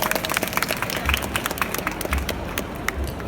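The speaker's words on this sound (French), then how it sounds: "on peut l'applaudir." A crowd at a fan Q&A event in Brussels applauds, many hands clapping together in a loud, continuous burst that stays even for several seconds before thinning slightly at the end.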